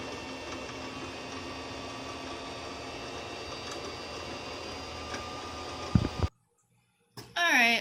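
A Brother LX3817A sewing machine stitches steadily with a continuous whirring hum for about six seconds, then stops abruptly into silence before handling noises resume.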